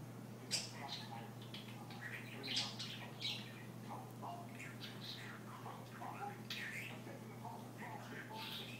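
A young female budgie chirps in quick, bright, soft bursts scattered throughout, close by and fairly quiet over a steady low hum.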